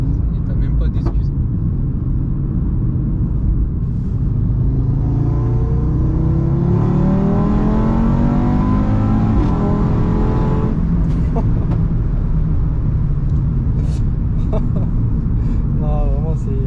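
Audi RS3 tuned to stage 2 with 600 hp, its turbo engine accelerating hard from inside the cabin, a deep roar rising steadily in pitch, then easing, while people talk over it.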